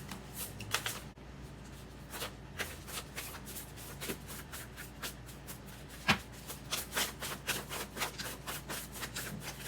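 Tarot message cards being shuffled by hand, with quiet repeated riffling and rubbing bursts in an irregular rhythm, heard close and alone.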